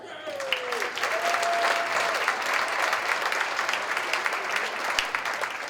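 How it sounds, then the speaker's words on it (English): Dense applause from a gala audience honoring sponsors, steady and sustained throughout, with a faint tonal whistle drifting over the clapping near the start. "I'm going to need more applause on these"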